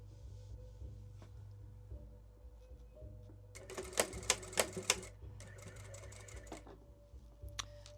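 A sewing machine stitches a fold in a curtain being converted from ring-top to pole pocket, with two rapid mechanical bursts of needle clatter separated by a short pause, over a low steady hum in a quiet room.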